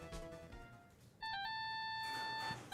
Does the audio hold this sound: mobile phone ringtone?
yes